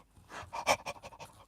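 Someone imitates a dog panting with their voice, a quick run of breathy huffs lasting about a second and a half, close and fairly quiet, with no other talk.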